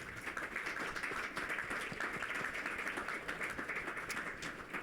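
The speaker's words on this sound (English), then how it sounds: "I want a round of applause for them." Conference audience applauding panelists after an offshore wind energy discussion, a steady wash of clapping at moderate distance that fills the whole stretch with no talk over it.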